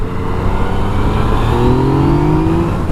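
A 2017 Yamaha FZ-09 motorcycle engine pulls hard under throttle, its note rising steadily over a few seconds, loud and close with a continuous rasping drone and no voices.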